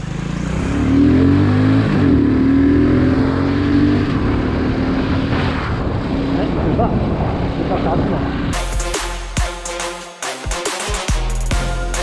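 A small motorcycle ridden along a road, its engine droning steadily and rising in pitch as it accelerates, with wind noise and rougher rattling bursts toward the end.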